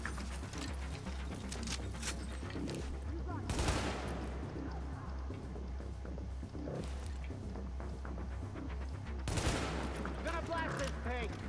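Bursts of gunfire in Tom Clancy's The Division, a shooter game, with rapid automatic volleys and a couple of sharper louder shots amid ongoing firefight noise, a player's voice talking over it.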